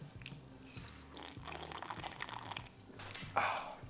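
Crunchy cereal is chewed close to the microphone, a soft continuous crunching with faint wet mouth sounds throughout.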